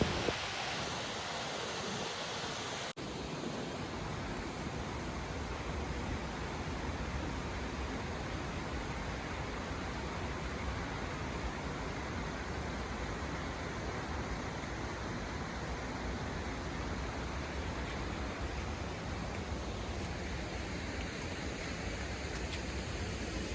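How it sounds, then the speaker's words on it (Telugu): Steady, loud broadband rush of a waterfall, water pouring continuously at a falls roughly 90 km from Bangalore, a dense unbroken roar filling the whole stretch after a brief quieter start, with no talk over it. "సో ఇదే సుంచి ఫాల్స్."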